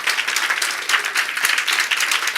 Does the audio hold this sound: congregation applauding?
yes